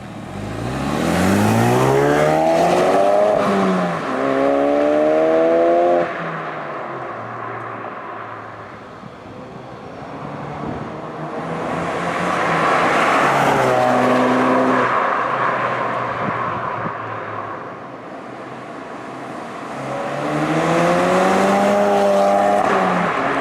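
A Ford Focus RS hot hatch, 2016-2018 model, revs and accelerates hard through the gears, its engine note rising in repeated sweeping pulls with loud, close surges and brief dips between shifts, no talking over it.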